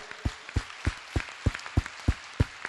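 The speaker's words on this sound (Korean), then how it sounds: "여러분, 주님께 우리 감사의 박수드리죠." A Korean church congregation claps in slow, regular unison, about ten sharp beats spaced evenly, fairly loud and close with no voices over them.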